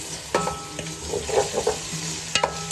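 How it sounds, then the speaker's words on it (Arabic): Tomato paste and small sliced tomatoes stirred with garlic in a hot pan: a spoon scrapes and taps repeatedly over a bright, continuous sizzle, close and fairly loud. "اديهم تقليبه حلوه واسيبهم شويه مع بعض."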